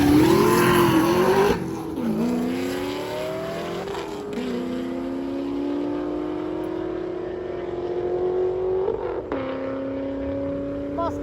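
A silver Corvette C6 and a Mustang launching in a drag race, engines roaring loud and close, then rising steadily through the gears as the cars pull away.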